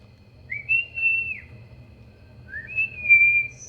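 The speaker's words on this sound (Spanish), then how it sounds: "Vamos a silbarle, ¿eh?" Two loud whistles from a person calling someone from outside a house, each a rising slide into a held high tone, spaced a couple of seconds apart over faint low background hum.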